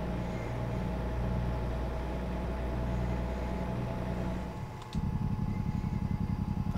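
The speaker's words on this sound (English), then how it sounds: "That Jake brake though." Volvo VNL truck in American Truck Simulator rumbling steadily, then switching abruptly near the end to a harsher, rapid staccato engine-brake bark that continues loudly to the close.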